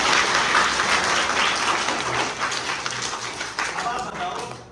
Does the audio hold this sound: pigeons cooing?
no